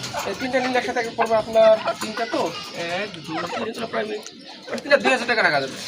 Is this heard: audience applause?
no